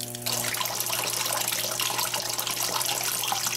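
A Panasonic 18 kg titanium washing machine fills with water for its second rinse while washing a king-size comforter, a steady rushing gush of inflowing water starting abruptly after a brief low hum and continuing evenly nearby.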